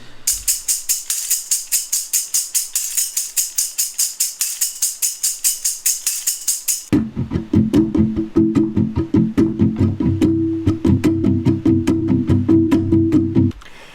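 A sparse electronic track: a bright, rapid ticking synth pattern alone at first, then a pulsing low bass line joins in a steady repetitive groove.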